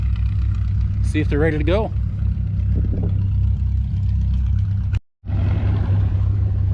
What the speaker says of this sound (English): they're starting to fire tractors up